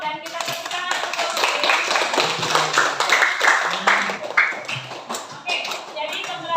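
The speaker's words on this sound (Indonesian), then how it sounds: "kita tepuk tangan untuk" A classroom of students claps together at a lesson's close, a dense burst of hand claps lasting several seconds and swelling then thinning, with a few voices mixed in.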